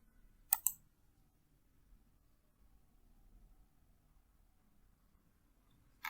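Computer mouse clicks, a quick double click near the start and a single click at the very end, crisp and quiet against near silence.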